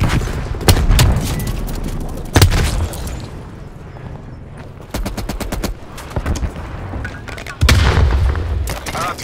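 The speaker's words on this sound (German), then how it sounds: "An alle. Artilleriebeschuss." Artillery bombardment in Call of Duty Black Ops Cold War team deathmatch: heavy booming blasts arrive every couple of seconds, with rapid bursts of gunfire between them, all loud and close, while a voice speaks over part of it.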